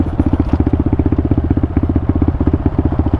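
A 2023 Pitster Pro 190fse dirt bike labours slowly up steep, washed-out mountain hills, its single-cylinder engine a loud, close, rapid rhythmic thumping that holds steady throughout.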